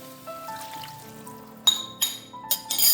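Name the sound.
prepared sauce poured into the pan with rice-paper tteokbokki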